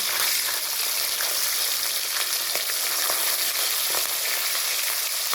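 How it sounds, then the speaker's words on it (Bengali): Hilsa fish head frying in hot oil gives a steady, dense sizzle with crackling pops throughout, close and loud, with no voices. "আমাদের তেল গরম হয়ে গেছে, এর মধ্যে এখন আমরা ছেড়ে দিয়েছি আমাদের ইলিশ মাছের মাথা।"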